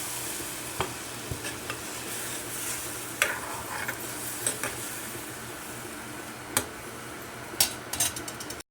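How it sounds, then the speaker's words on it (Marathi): A Kashmiri chilli curry frying in a pan while the water used to rinse the spice paste from a mixer is poured in, giving a close, steady sizzle with scattered stirring clinks and scrapes and no speech. "मिक्सरचे जे पाणी होते मी मसाल्याचं ते घालते याच्यामध्ये शिजण्यासाठी"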